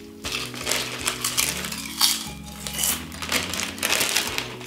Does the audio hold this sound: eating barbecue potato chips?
yes